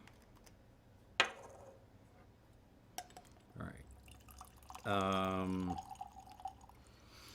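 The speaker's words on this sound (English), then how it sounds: "So yeah, let's get these things poured." Sauce-aroma baijiu, a Chinese grain spirit, poured from the bottle into tasting glasses, with a short gurgling pour and drips under a quiet room tone; someone speaks briefly before the pour.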